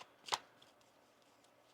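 A deck of tarot cards is shuffled once in a quick, crisp riffle, close and fairly quiet, followed by near silence and a faint tap at the end.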